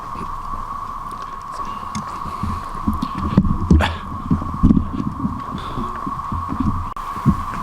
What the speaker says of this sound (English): These are the ones that they just hum. And it's just an incredible noise.